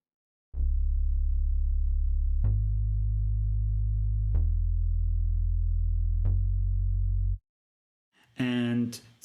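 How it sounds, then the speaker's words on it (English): Simple bass line on a software instrument in Cubase for a pop/EDM track: four sustained low notes, each starting with a sharp attack about every two seconds, then a brief burst of speech at the end. "I have my instrument that plays a, in my case, very simple bass line"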